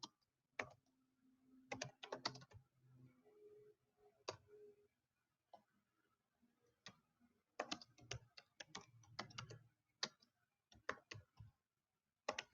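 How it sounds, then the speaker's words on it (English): Computer keyboard being typed on in bursts of quick clicks and taps separated by brief pauses, close and fairly quiet, no talking. "Let me type something in there."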